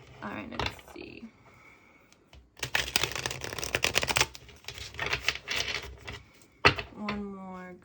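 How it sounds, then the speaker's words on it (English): Tarot cards are shuffled close up in bursts of crisp riffling and slapping, with short pauses between, while a person talks quietly over parts of it. "One more good shuffle"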